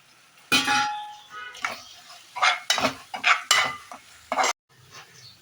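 Chili powder and coriander powder masala is sautéed in a pan, heard as several loud, close bursts of scraping and sizzling stirring strokes with short pauses between them.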